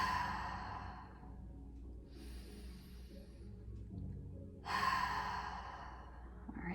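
Breathing during a breathwork meditation: slow, deep breaths come in long airy swells, with a louder forceful exhale near the end, close and quiet, with no talk.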